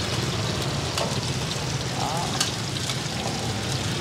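Taro batter snacks deep frying in hot oil at a street food cart in Binh Duong, Vietnam, a dense continuous sizzle and crackle close up, with faint talk in the background.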